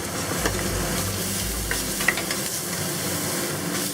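Ginger and garlic sizzling in hot oil in a pan over medium-high heat, a steady close frying hiss with a few faint stirring scrapes, heard alone.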